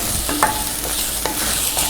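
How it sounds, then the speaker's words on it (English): Brussels sprouts fry in a pan and are given a quick stir. Brief scraping strokes sound over a constant close sizzle, with no voices. "Give it a quick stir."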